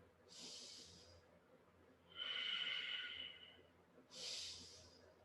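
Slow, deep breaths during a yoga Sphinx pose, three soft airy inhales and exhales spaced evenly over several seconds, close and quiet.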